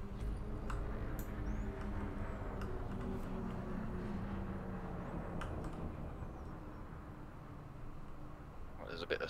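A spaceship engine in the video game Elite Dangerous throttles down, giving a steady, low, broad rumble that eases slightly over time, with a few faint ticks and a brief rattle at the end.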